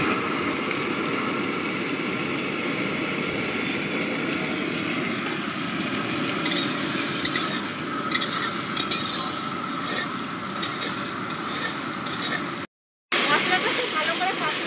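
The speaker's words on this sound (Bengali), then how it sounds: "মশলাটা খুব ভালো করে কষানো হয়ে গেছে" A ginger, garlic and chili paste with cumin fries in a pan, making a steady, close hiss and sizzle throughout, with faint scraping from stirring and a brief dropout near the end.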